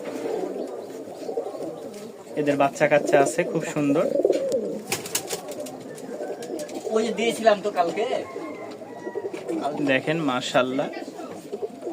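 Pigeons coo softly and repeatedly while feeding two chicks, close by and steady, mixed with someone talking over them.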